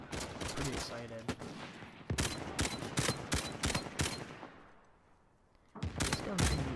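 K95 rifle fire in Uncharted 4 multiplayer DLC, rapid bursts of close, loud automatic shots in several clusters with a short lull before firing resumes, and other gunfire mixed in.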